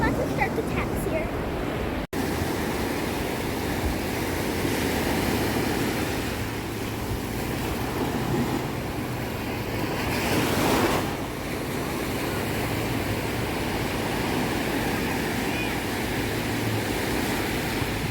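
Big ocean surf at Ormond Beach, Florida, a continuous broad roar of breaking waves mixed with wind buffeting the microphone, with one louder swell crashing midway.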